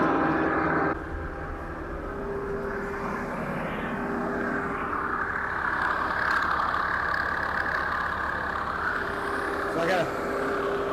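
A steady tractor engine drone runs throughout, close and fairly loud, as the heavy motor keeps working while stuck on a stump during brush hog mowing, with a person talking over it at moments.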